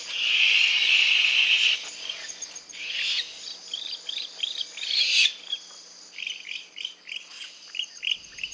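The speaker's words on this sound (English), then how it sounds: "There are two types of owls in Jamaica." Owls in Jamaica, such as the barn owl, give a long loud hoarse screech followed by a run of short repeated chirping notes, with a soft insect chorus in the background and no voices.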